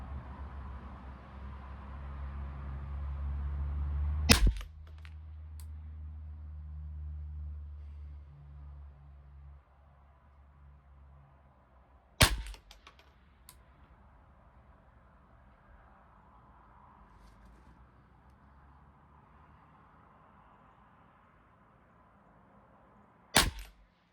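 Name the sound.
rifle shots, CCI Standard Velocity ammo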